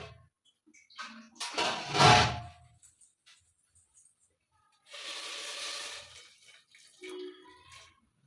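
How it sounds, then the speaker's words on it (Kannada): Water is poured over a block of jaggery in a pan, two short bursts of splashing pouring separated by silence, with a faint drip or clink near the end. "ಈ ಬೆಲ್ಲ ಮುಳುಗೋಷ್ಟು ಮಾತ್ರ ನೀರು ಹಾಕ್ಕೊತೀನಿ"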